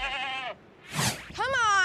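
Goats bleating up close, two loud wavering calls separated by a short breathy rustle, with no talking.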